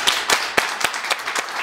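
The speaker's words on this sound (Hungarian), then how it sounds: "Ez egy nagy tapsot neki." A studio audience on a Hungarian television show applauds, a close, loud burst of clapping with sharp individual claps standing out over the steady patter.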